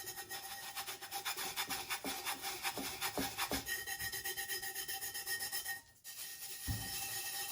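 Repeated rubbing strokes on a cup to take off tacked-on material and reveal a zebra design underneath, steady close scrubbing friction with rhythmic strokes, a brief pause near the end, no talk.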